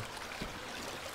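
Steady rushing water from a river stream near a dam, an even, unbroken wash with one small bump partway through, no voices.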